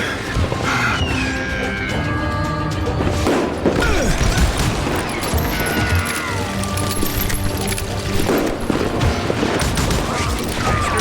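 Dense gunfire from the Western shooter game Call of Juarez Gunslinger in a saloon, with loud overlapping shots, booms and crashes, a shouted voice mixed in and a busy background.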